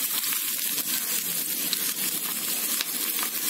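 Chillies and garlic sizzle in a spoonful of hot oil in a pan just used for frying bread Manchurian, giving a steady, close, crackling hiss throughout with no talking.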